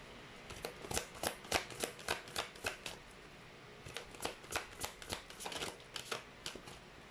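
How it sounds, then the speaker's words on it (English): Tarot cards are shuffled in a quick, steady rhythm of crisp riffling bursts, close and clear, with no talking. "Let's try to pull up more cards."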